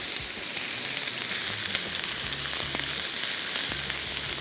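Chopped ginger and garlic sizzle steadily in hot oil in a pan, a loud, continuous close-up fry with faint stirring clicks and soft background music, no voices.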